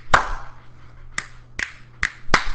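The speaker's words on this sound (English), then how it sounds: "Why are you clapping?" Claps from a dancing character in the video game Fortnite: five sharp, spaced hits over a low steady hum, loud and close with uneven gaps, no talk.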